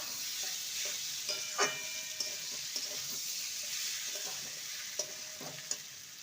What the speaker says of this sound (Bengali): মিনিট দুয়ে পেঁপে আলু মশলার সাথে ভালো করে কষিয়ে নিতে হবে